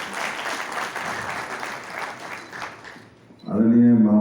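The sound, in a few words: audience applauding to welcome a guest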